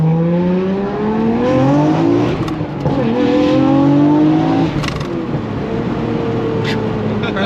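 Nissan R34 GT-R fitted with universal valved mufflers and a free-flow downpipe, driving and accelerating through rising gears, a loud close exhaust drone climbing in pitch with each shift and no talking.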